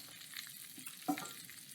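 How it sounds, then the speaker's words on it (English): Chicken Marsala frying in a pan, a soft, steady sizzle with faint crackles and a brief stir, quiet and close, without talk. "As you can probably hear, it's sizzling."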